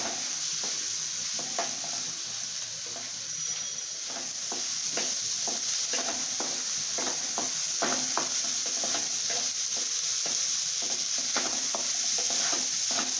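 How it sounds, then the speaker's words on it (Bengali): Lentils (dal) frying and being stirred in a pan for khichuri, a steady close sizzle with a continuous hiss and repeated scraping clicks of a spatula against the pan. "ডালটাকে ভালো করে ভেজে নিতে হবে"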